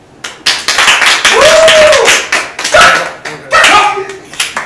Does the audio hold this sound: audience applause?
yes